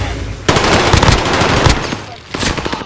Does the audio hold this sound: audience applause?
no